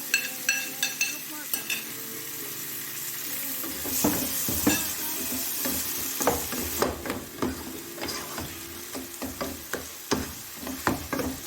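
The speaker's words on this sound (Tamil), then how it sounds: "அந்த தக்காளியை நல்லா வதக்கிக்கிங்க." Chopped tomato and onions sizzle and fry in a pan while a spoon stirs and scrapes, producing repeated clatters over a continuous crackling hiss, close and fairly quiet, with no talking.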